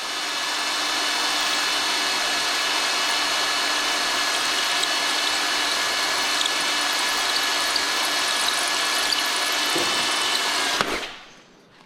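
A power drill bores out a bolt hole in an engine, a sustained high whine held steadily at close range for about ten seconds before it abruptly stops and fades.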